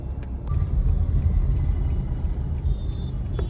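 Steady rumble of city road traffic in Delhi, a continuous low drone of engines and passing vehicles with faint higher tones, heard from within a moving vehicle and with no talking.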